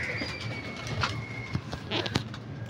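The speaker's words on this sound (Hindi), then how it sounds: "जाल में डाल दिया कबूतर" A pigeon caught in a net coos softly nearby, a few low throaty calls over faint background noise.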